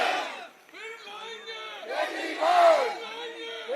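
Crowd at a political celebration at a party office shouting and cheering in chanted waves, loud and close, with a strong voice leading the slogan amid the noise.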